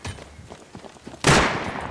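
Gunfire in the survival video game Rust: faint scattered steps and small clicks lead into one sharp, loud shot whose crack rings and decays, no speech heard.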